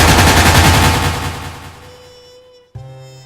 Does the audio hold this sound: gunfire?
yes